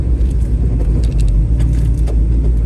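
A 1967 Chevrolet Camaro with a 396 big-block V8 pulls hard under load, heard from inside the car as a loud, dense low rumble with small clicks and rattles on top.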